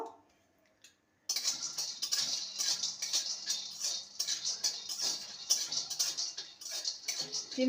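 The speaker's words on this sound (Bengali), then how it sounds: "বাদামটা যতক্ষণ না ফাটা ফাটা হচ্ছে আর উপরের অংশটা কালো কালো স্পট হচ্ছে ততক্ষণই ভেজে নিতে হবে" A handful of peanuts dry-roasting in an empty pan, rattling and clicking in a busy, continuous clatter as they are tossed and stirred, with no voices.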